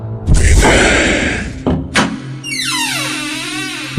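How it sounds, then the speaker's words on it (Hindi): A heavy door slams shut as a horror-story sound effect, with a loud booming thud followed by a second knock and then eerie wavering, descending tones. "दरवाजा बंद हो गया और साथ ही विनय भी।"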